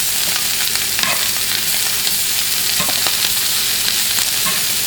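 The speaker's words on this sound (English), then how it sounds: "Now you want to cook down your veggies until they are translucent." Vegetables sizzling loudly in a hot pan for steak fajitas, a dense constant frying hiss with faint stirring scrapes, close and uninterrupted by talk.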